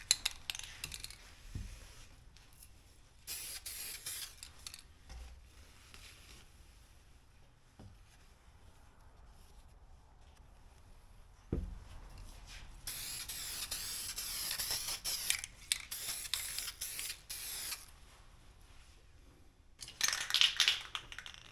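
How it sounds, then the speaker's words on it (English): Aerosol spray can laying down a coat of filler primer, several hissing bursts of varying length separated by quiet gaps with light clicks and handling noises, close and without talk. "I applied the last coat of filler primer."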